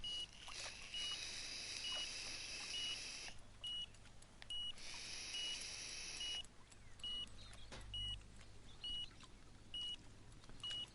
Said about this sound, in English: There's quite a lot of bite alarms out there now